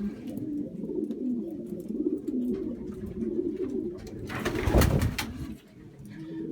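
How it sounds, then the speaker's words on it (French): A racing pigeon coos in low, repeated rolling phrases close by, with a loud rustle or flutter near the end breaking over the calls. "Là-bas, c'est un pigeon de Bertie Campus et Ad Scharlakens."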